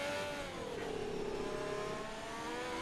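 An F1 car spinning its wheels under throttle in the F1 2020 racing game at the Hungarian circuit, a steady loud engine whine with a rising and falling tonal sweep, alone without voices.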